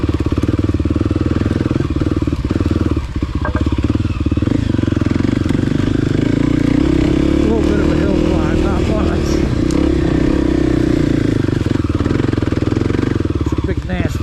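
A Kawasaki KLX300 dirt bike growls steadily in second gear along a root-covered forest trail, its engine loud and close, with clatter over bumps; a rider talks over it throughout.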